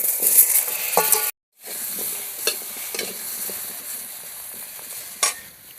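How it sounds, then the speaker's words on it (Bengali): Potatoes frying in leftover fish-frying oil make a continuous sizzle with scraping stirs and a few sharp clinks, briefly cutting out before resuming, heard close up. "আমি এটা আলু কটা ভেজে নেবো লাল লাল করে।"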